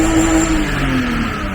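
A car engine from a ProAm drift build revs loudly up close in a brief, steady burst, its pitch easing slightly downward.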